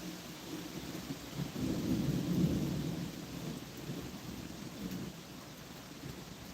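Rolling thunder rumbles over steady rain during a storm chase, building to a louder peak midway and then easing into a continuous downpour with no voices.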